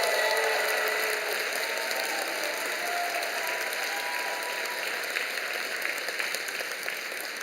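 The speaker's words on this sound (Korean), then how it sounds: "돌아서서 교우들에게 인사하실 때 큰 박수로 격려해 주시기를 바랍니다" A church congregation at a Sunday evening service breaks into broad applause for a bishop, a continuous mass of clapping that is strongest at first and then settles to a steady, slightly softer patter.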